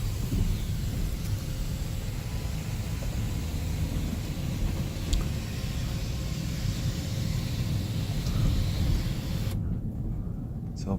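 Steady, loud low rumble and road roar from inside a 2011 BMW X3 F25 driving over uneven surfaces, continuous throughout with a few faint rattles and taps, cutting off abruptly near the end.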